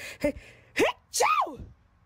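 Three short bursts of sneezing, the last a longer voiced sneeze with a rising-falling tone, close by and loud.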